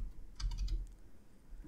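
Typing on a computer keyboard, a short close burst of several quick key clicks mid-clip, with no talk.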